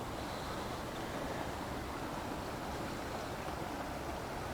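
A tributary of Kanaka Creek in a wooded watershed flows with a steady, even rush of water, moderately close and unbroken throughout, with no talk over it.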